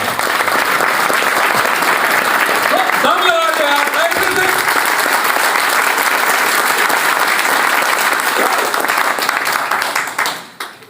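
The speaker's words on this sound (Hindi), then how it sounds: "एक बार तालियां बजा दीजिए जोरदार।" Loud, sustained applause from a large audience at an RCM program event fills the whole stretch, with a brief voice heard over it before the clapping fades out at the end.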